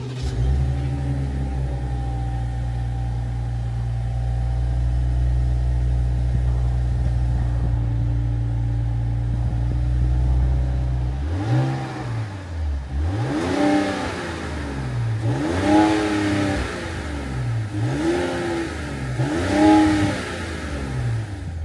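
A 2025 Ram 1500 Big Horn pickup engine, not a V8, idles with a deep, steady hum, then gets revved several times. Each rev rises into a loud swell and falls back, close by.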